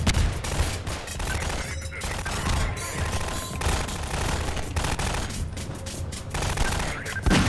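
Rapid gunfire from a weapon in the video game Half-Life 2, a dense fusillade of bursts and booms running continuously and loudly throughout.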